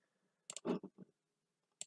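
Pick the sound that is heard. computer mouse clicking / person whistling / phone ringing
computer mouse clicking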